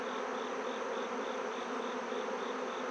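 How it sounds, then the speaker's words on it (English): A steady, loud hum of a crowd of honeybees swarming over the comb of an open hive, close up and unbroken. "There's a pile of bees here."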